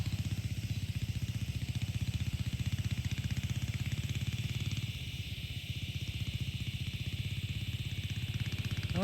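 Vintage Honda XL250 dual sport motorcycle climbing a hill, its engine a close, loud, steady rhythmic throb that holds throughout and eases slightly midway before pulling again.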